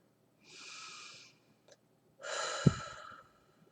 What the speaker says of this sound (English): So when you're ready, take a deep breath again.